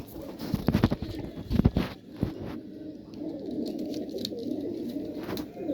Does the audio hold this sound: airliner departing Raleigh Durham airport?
no